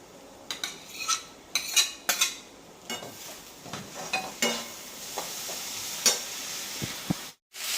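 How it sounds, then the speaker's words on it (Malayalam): Okra and tomatoes sauté in a pan as a spatula scrapes and taps the metal in a quick irregular series of clatters over a low sizzle, close by and without talking. "തക്കാളിപ്പഴമാണ് ഞാൻ വഴറ്റിയെടുക്കാൻ പോവുകയാണ്."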